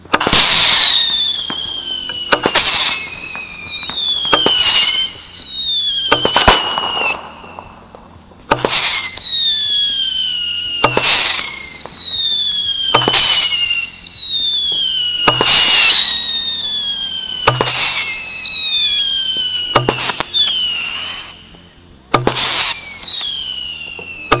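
Marvel 30-shot Diwali fancy fireworks launch and burst in a rapid sequence of loud cracks, each followed by a whistling, crackling tail, repeating steadily for about twenty seconds with no talking.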